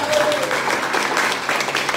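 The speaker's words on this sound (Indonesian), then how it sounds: "Tepuk tangan bagi Allah kita." A church congregation applauds during a Christmas worship service, dense steady clapping filling the space, with a sustained tone and some voices mixed in.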